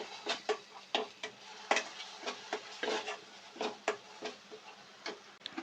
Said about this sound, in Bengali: ভালো করে মশলাটাকে একটু কষিয়ে নেবো আমরা